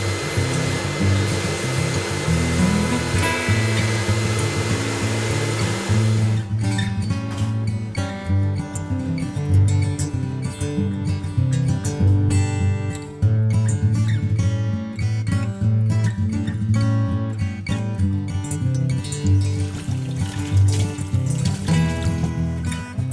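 Loud continuous hiss of a sandblaster etching a glass pie pan through a vinyl stencil, starting after a few seconds of quieter air and running steadily with rough, fluttering texture.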